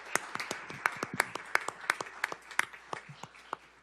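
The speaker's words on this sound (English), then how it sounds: "Let's give them a round of applause." Audience applause at a city commission meeting: a modest, fairly quiet round of separate hand claps at an irregular rhythm, each clap distinct rather than blending into a roar.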